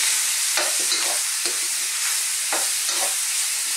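Sausage and bacon frying for Filipino callos, a dense steady sizzle close up with several rhythmic scraping stirs of a spatula against the pan.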